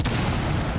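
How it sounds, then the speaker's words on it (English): A wall blasted apart by an explosive charge in Rainbow Six Siege, one loud dense burst of rumbling, crackling debris that fills the short moment without a clear tail. "Oh, they just blew down a wall."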